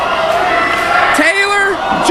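Wrestling crowd roaring after a superplex from the top of a steel cage at an RWA event, a loud continuous mass of cheering and yelling with individual whoops rising above it.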